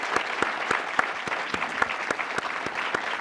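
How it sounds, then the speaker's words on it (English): An audience claps for panelists at a veterans' event, with steady, moderately loud applause and distinct individual claps standing out in an even, continuous patter with no talk over it. "Let's give them a round of applause."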